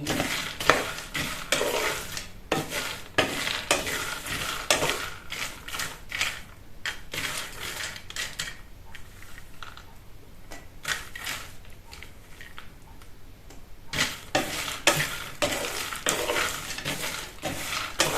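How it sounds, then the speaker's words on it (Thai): Cocoa beans are stirred while dry-roasting in a pan with no salt or oil, giving a steady rattling, scraping churn of beans against the metal. It is close and continuous, briefly quieter in the middle. "ก็เป็นการคั่วแบบง่าย ๆ ไม่ได้ใส่เกลือใส่อะไรเลยนะคะ"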